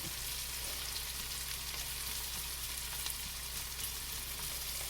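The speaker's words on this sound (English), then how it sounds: "I don't mind sauteing the vegetables first because I love the way that they smell." Vegetables sauté in a hot pan, giving a steady, close sizzle and crackle that holds evenly throughout with no talking.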